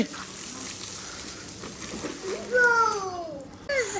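Water is sprinkled and splashed over dusty ground to keep the dust down, a steady soft hiss and spatter running underneath a voice and other chatter.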